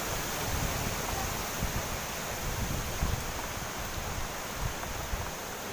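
Strong typhoon wind from Typhoon Rolly in Laguna roars as a continuous broadband rush, gusting slightly, loud and enveloping with little rain and no voices.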